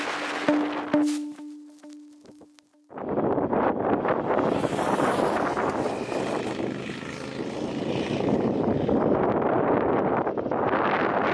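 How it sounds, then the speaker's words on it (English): Intense cold wind roars and buffets the microphone during a solo Triumph Speed Twin 1200 motorcycle road trip, loud and steady after a brief quieter start. "It's so cold and the wind is so intense."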